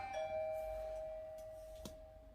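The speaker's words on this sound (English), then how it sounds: "do not answer the door when somebody rings the bell" A doorbell chimes once near the start, its bright tone ringing on and slowly decaying over a faint room hum, with a short knock-like tap near the end.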